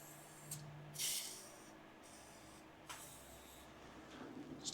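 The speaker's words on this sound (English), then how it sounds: "Now I'm just going to go and just spray these shackle bolts and under the U-bolts as well" Aerosol spray can misting penetrant onto the rear leaf-spring shackle bolts and U-bolts of a Toyota Hilux, heard as a few short hissing bursts, one strong near burst and fainter ones, in a quiet workshop.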